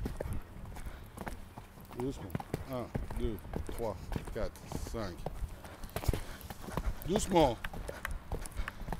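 Riding-school horse moving at a canter or gallop in an arena, its hoofbeats thudding rhythmically under an instructor's spoken counting and coaching.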